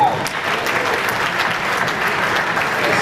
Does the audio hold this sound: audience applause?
yes